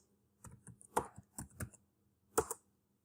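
Keystrokes on a computer keyboard entering a LinkedIn search, a few quick clusters of clicks spread over about three seconds, close and fairly quiet against a faint background hum.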